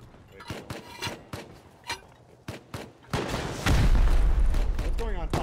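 Rust video game combat: a string of sharp gunshots in quick succession, then heavy rocket explosions building into a loud, sustained roar of blasts and debris, with talk mixed in.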